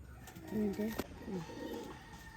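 A pigeon coos nearby in a few soft, low throaty notes, with a brief click and faint background noise around it.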